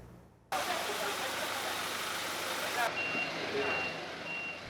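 A truck carrying ten hospital beds for delivery to a hospital in Malacca rumbles nearby with a steady broadband engine roar, and faint, evenly spaced reversing beeps chirp over it in the second half.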